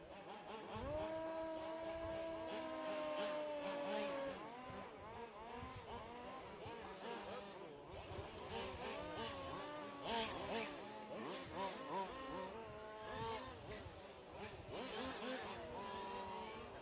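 Fifth-scale RC race cars warming up on a speedway track, several small engines whining and revving at once, pitch rising and falling as they pass, loud and continuous.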